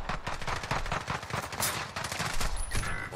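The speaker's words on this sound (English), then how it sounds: "I shot his computer with a pistol" Rapid bursts of gunfire from a shooter game in Warzone, dense and loud, with pistol shots cracking in quick succession over continuous battle noise.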